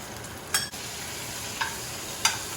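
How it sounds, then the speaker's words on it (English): Butter-basted food sizzling steadily in a hot pan, with a few sharp spoon or utensil scrapes and clinks breaking through the quiet frying hiss. "Get that butter and baste, baste, baste."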